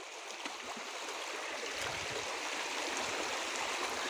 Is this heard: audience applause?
no